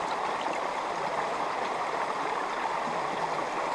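Steady rushing flow of a small Scottish burn, its water running over rocks in an even, continuous wash with no voices, heard close and fairly full.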